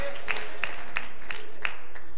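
A church congregation clapping along in a steady, evenly spaced rhythm, about six claps at roughly one-third-second intervals.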